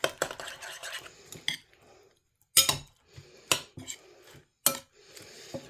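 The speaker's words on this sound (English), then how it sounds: "Grab ourselves a spoon. And we're just going to combine all of this quick." A spoon stirs and scrapes against a bowl while ingredients, including egg, are combined, giving a run of close clinks and knocks with short quiet gaps between bursts.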